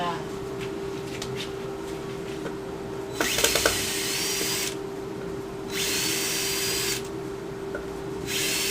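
Power drill backing screws out of a setup while turning a sycamore bowl blank, whirring in three short close runs separated by pauses, with a steady hum from other equipment underneath.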